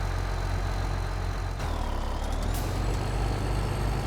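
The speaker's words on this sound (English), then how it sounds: "this truck here does a pretty good job going up and down the road" A truck in the Farming Simulator 17 video game drives along a road with a loud, steady engine drone, a brief air-brake hiss midway and faint whining tones, with no voices.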